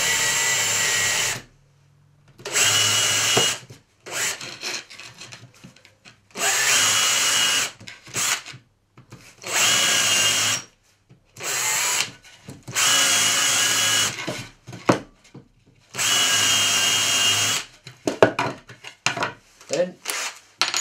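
Repeated bursts of a power drill driving screws into soft wood for a boot scraper, each whirring run lasting a second or two, separated by short pauses and light handling noises.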